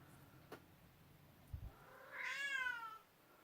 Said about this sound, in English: Kitty's talking. Can you hear her?